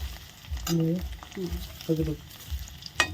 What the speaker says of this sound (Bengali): পনির দেখো সুন্দর ভাজা হয়ে গেছে